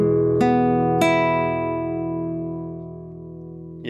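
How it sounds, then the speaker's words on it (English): Acoustic guitar with a mid-high EQ boost, heard as two strummed chords in quick succession that ring out and slowly decay, bright and sustained, with no talking. "We're now boosting the mid-highs."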